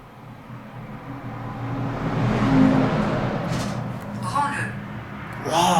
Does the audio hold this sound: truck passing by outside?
yes